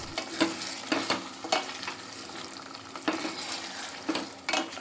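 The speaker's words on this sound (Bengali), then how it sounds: "এবার ক্যাপসিকাম পেঁয়াজ আর পনির একই সঙ্গে খুব ভালো করে মশলার সঙ্গে কষে নেব" Capsicum, onion and paneer are stir-fried with masala for paneer bhuna, a spatula scraping the pan in repeated strokes over a steady low sizzle, close and moderately loud.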